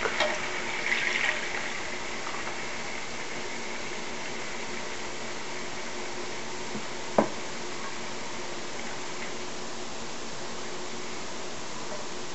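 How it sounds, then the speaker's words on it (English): Clam and pork stock poured into a cooking pot for palabok gives a steady watery hiss that runs throughout, with one brief clink midway and no talking. "and then you can add the clam and pork stock."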